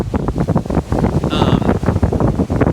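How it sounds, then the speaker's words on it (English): Strong gusting wind, around 20 to 30 knots, buffeting the microphone on Mae Haad Beach, Koh Phangan ahead of a storm; loud, close and continuous roaring rushes with no pause. "This is very energetic wind right now."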